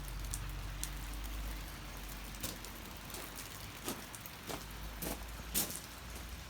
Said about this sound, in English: See how far away the rain's hitting from the doors.